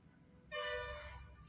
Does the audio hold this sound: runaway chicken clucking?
no